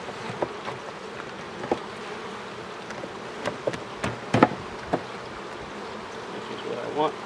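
Honeybees buzzing steadily around an open wine barrel hive, a soft continuous hum with scattered sharp knocks and clicks from hive work nearby.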